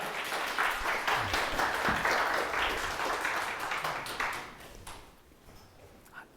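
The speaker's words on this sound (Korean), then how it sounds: "저희 뜨거운 박수로 교수님 모시도록 하겠습니다." An audience applauds to welcome a professor onstage at a Korean political talk event on party reform, a dense burst of clapping that fills the room and then thins and fades toward the end.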